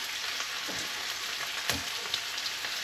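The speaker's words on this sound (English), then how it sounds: "Alright, so pan's nice and hot. Just going to toss our meat off in there." Back bacon fries in a hot pan with a steady, close sizzle and scattered sharp crackles and pops, with no talking.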